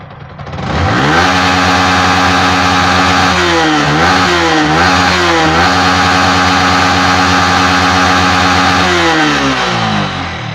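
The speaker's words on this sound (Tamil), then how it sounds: "ஃபுல்லாக வண்டி ரைஸ் ஆகுது." Yamaha MT15 motorcycle engine with a low pickup problem, loud and close, rising to a high rev and holding it with a few quick throttle blips in the middle before dropping back down.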